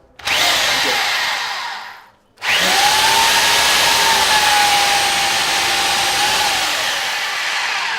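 A Ryobi XMS14SDSDRIL three-mode SDS drill whirs at high speed, stops briefly, then spins up again and runs steadily, loud and close with no talk.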